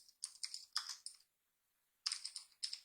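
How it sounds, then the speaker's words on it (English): Several quick keyboard keypresses clicking in two short bursts with a pause between, entering a save shortcut on a computer while working in Photoshop; close and crisp, no talk. "Let's hit Control Shift S, and let's save this in the image folder."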